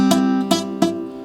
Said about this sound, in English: Now you might be getting some muted sounds like this.